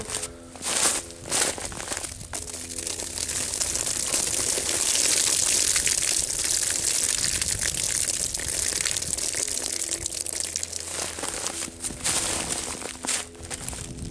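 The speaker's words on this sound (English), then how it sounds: "you see the water just beading right off there." Water pours and splashes onto a stiff waxed canvas belt pouch up close for several seconds, beading off, mixed with crinkly rustling and handling noises.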